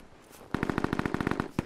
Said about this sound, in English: Yep, he's shooting at me.